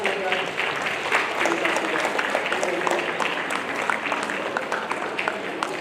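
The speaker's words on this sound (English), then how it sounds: "we'll give them a big clap as we go" Clapping from the audience at a junior and youth football club awards presentation, a steady patter of many hands over background murmur, moderately loud and continuous throughout.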